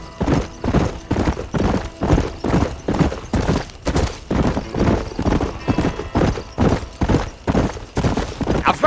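Horse hooves trot steadily in Red Dead Redemption, a loud, close, even clip-clop rhythm that carries on without pause and with no voices over it.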